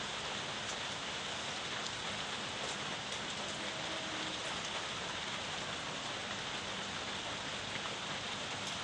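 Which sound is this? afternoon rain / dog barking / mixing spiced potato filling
afternoon rain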